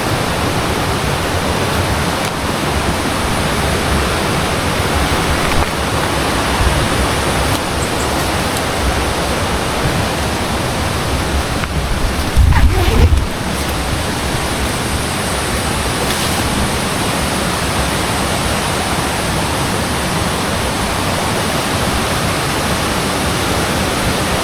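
A mountain river on Mount Wilis rushes, roaring steadily and loudly throughout, a dense, unbroken wash with one brief low thump partway through.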